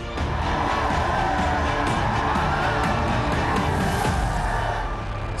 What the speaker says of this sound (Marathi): स्टेज जवळ जोरदार घोषणाबाजी सुरू होती।